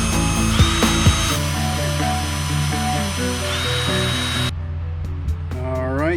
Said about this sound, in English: Gonna hit it with a little carb cleaner and we're gonna drill it.